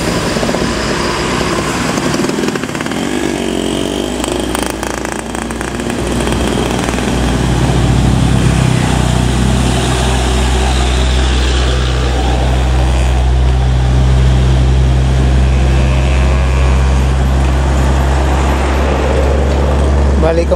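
A bus pulls away from Palapa, its engine a steady loud drone with a deep low rumble that builds and holds, under a constant wash of road and traffic noise.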